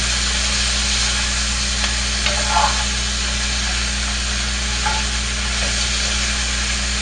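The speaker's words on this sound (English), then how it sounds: "This is going to cook until most of the vegetables are tender." Vegetables for a tortellini pasta salad frying in a pan, a steady, fairly loud sizzle over a constant low hum, with a few faint clinks.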